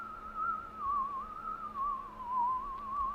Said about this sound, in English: It's just a really weird whistling going on here.